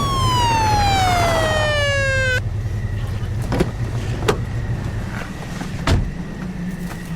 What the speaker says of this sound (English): The ambulance is on its way.